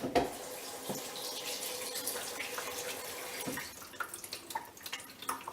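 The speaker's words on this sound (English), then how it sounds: "let me turn the faucet on." Kitchen or bathroom faucet running into a clogged sink, a steady hiss of flowing water with a brief splash at the start, then quieter and more uneven as the water pools, with no talking.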